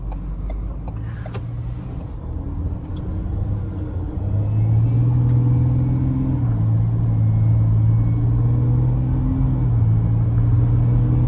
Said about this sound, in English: of course, its engine, because it produces 184 kilowatts and 600 of newtons meters